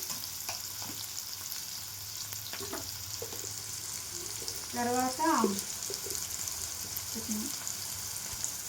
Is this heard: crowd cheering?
no